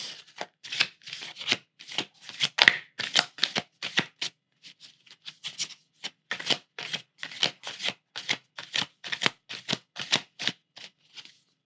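Oracle cards shuffled by hand, a long run of rapid riffling bursts in quick rhythm with a brief lull midway, close and fairly loud with no talking.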